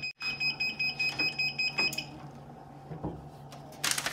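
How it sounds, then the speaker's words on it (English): A heat press beeps in a steady run of quick, even electronic pulses, then stops, leaving faint room noise and a few soft knocks. "It's beeping."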